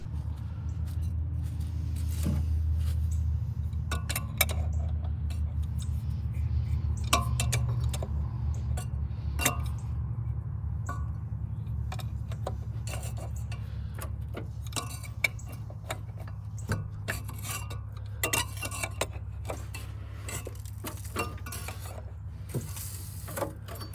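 A 1971 MGB engine, pulled from the woods after twenty years, is turned over by hand with an adjustable wrench, giving a steady low mechanical churn with scattered small metallic ticks and clicks, close by and without talk.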